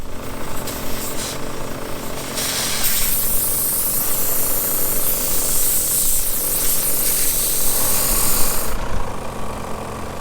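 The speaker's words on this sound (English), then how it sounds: "So we'll stop and air up here. So get the compressor up." An air compressor runs steadily and loudly while inflating vehicle tyres, a continuous mechanical hum with a hissing airflow that shifts partway through.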